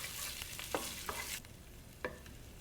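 Grated ginger sizzles in a hot pan for a stir fry, a steady frying hiss broken by a few sharp scrapes and stirring clinks, fading slightly partway through.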